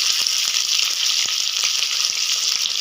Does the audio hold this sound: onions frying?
yes